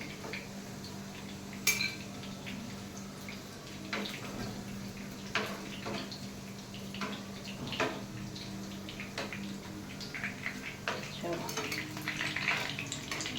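Chicken meatballs sizzle in hot oil while a utensil scrapes and clinks against the pan, lifting them out one by one, with a steady frying hiss under intermittent metallic knocks.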